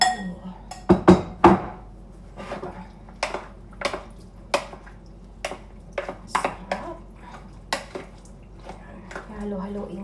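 Utensils clink and scrape against a bowl as buko salad is mixed, giving irregular close taps and knocks in a quiet kitchen.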